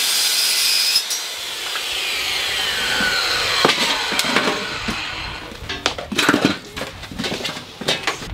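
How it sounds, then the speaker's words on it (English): A circular saw trims aluminium pontoon tube for a DIY dinghy build, a long rising whine of the blade cutting metal, then scraping and clattering as the tool and material are handled. "we'll get the skill saw back out, we'll go and trim it"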